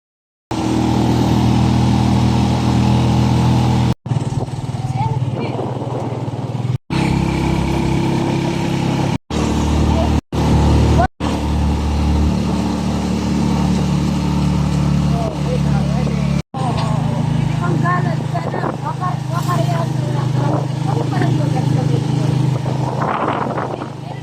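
A tricycle loaded with belongings putters along a road in Leyte, its small engine droning steadily and loudly for the whole ride, with several abrupt cuts and voices talking over the engine noise.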